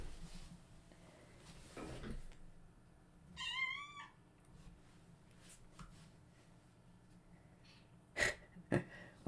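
A house cat lets out a single clear meow at a computer desk, mid-clip and close by. Soft room noise surrounds it, with a few sharp knocks and bumps near the end.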